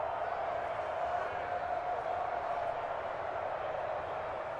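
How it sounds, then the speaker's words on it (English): A dense stadium crowd in a football video game roars continuously at a steady, fairly distant level, a broad wash of cheering voices without pause. "Listen to this crowd now."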